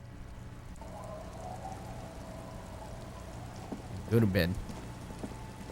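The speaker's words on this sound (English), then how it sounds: "It's getting late, and it's raining." Rain falls steadily as a soft, constant hiss in the video game Disco Elysium, with faint tonal music underneath and a voice speaking briefly over it near the end.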